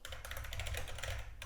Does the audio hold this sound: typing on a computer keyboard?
yes